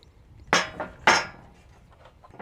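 Two sharp knife chops hit a chopping pad, cutting henbit, about half a second apart. The hard, close impacts stand out against a quiet background, followed by a few fainter taps.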